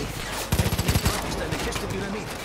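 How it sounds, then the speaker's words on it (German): Rapid burst of gunfire from a first-person shooter set in rural Montana, Far Cry 5: several close, punchy shots in quick rhythm over a busy game soundscape, with players talking around it. "Ich schieße."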